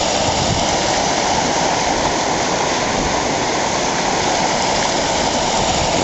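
Floodwater rushes beneath a town footbridge during Australian floods, a loud, steady roar of churning water filling the whole clip without a break.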